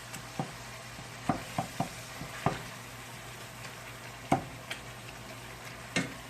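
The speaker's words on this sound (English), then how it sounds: "we want to finish frying it up first" Ground beef frying in a pan on a stovetop, giving a steady low sizzle broken by scattered sharp ticks and pops, probably from a spatula stirring it. There is no talking.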